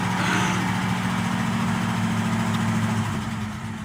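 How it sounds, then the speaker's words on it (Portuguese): A 1950s car engine idles steadily at a car museum in Curitiba, a low continuous rumble with a deep hum, close and even throughout before easing slightly at the end. "E com a experiência de ouvir um carro da década de 50 ligado."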